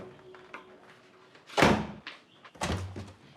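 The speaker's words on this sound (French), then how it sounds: "ce n'est pas à toi de claquer la porte de ma chambre" A bedroom door banged shut in a home, one sharp loud thud followed by a second heavier knock a moment later, with quieter rustling and shuffling around them.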